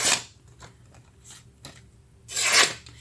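A WE Knives Minax folding knife slices through a paper sticky note with two distinct rasping swipes, one at the start and a louder one near the end, with faint handling sounds in between and no talking.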